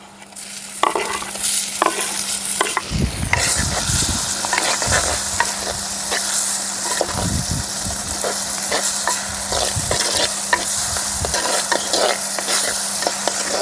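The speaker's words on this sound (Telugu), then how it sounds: "టమాటాలు బాగా ఫ్రై అయ్యాయి" Tomatoes and curry leaves frying in a pan for a stuffed eggplant curry, with a continuous loud sizzle and repeated scraping strokes of a spoon stirring every few seconds.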